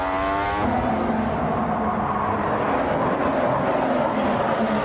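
Nico Rosberg's Mercedes Formula 1 car at the 2014 Bahrain Grand Prix, heard onboard heading into turn 8: a high, whining engine note that shifts pitch early on, then settles into a loud, dense, continuous roar.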